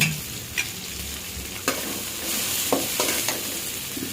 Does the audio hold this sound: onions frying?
yes